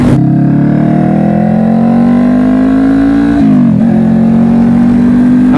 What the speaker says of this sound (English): The bike sounds so much better though, I can say, with this the shorty type of exhaust I have on it.